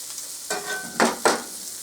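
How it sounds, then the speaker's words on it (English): Liver frying in a pan, a steady close sizzle broken by a few sharp bursts of crackle as pieces are turned, with no talking. "I'm just cooking it both sides."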